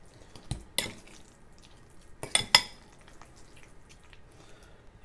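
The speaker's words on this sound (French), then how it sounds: "On va pouvoir remélanger avec les 2 fourchettes pour incorporer notre" Two forks mix aubergine caviar (baba ganoush) with lemon juice in a bowl, making a few close, quiet metallic scrapes and clinks in brief clusters against soft background quiet.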